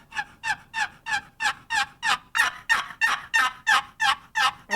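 Soft turkey yelps from a wooden box call with a thumb pressed on the sideboard to dampen it, a steady run of about fourteen evenly spaced, moderately quiet scratchy notes, heard alone.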